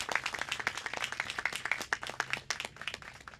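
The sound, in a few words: applause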